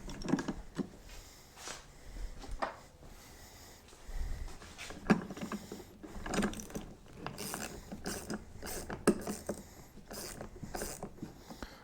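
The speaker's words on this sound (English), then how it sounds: "you can see I'm using a ratcheting wrench" A ratcheting wrench tightens a bolt on a Polaris Hawkeye 4x4 ATV, giving off bursts of quick, close mechanical clicks separated by short pauses, with some handling and workshop noise between strokes and no talk.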